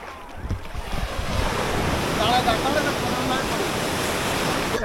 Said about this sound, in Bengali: এই যে সামনে একটা ঢেউ আসছে।